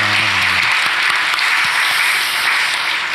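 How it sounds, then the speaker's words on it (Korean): Loud, dense applause from a large church congregation at a New Year's Eve service fills the whole moment, with a brief low tone at the very start. "하나님께 영광의 박수하겠습니다"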